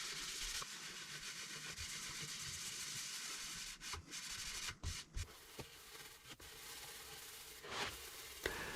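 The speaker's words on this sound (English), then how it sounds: "I'm using P180 abrasive again to go around the cube" Wooden storage cube being sanded with P180 abrasive, a continuous close rasping scrub with a few short pauses and shifts in pressure.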